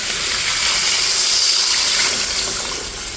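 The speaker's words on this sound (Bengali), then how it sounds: "এখন আমি এখানে জল দিয়ে দিচ্ছি" Water poured into a pumpkin and shrimp curry, a loud, steady gushing splash that runs almost without change and eases slightly at the end.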